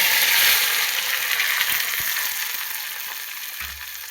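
Tindora (ivy gourd) hitting hot oil with mustard seeds and cumin gives a loud, steady sizzle, with a few low knocks from the pan and a clatter near the end.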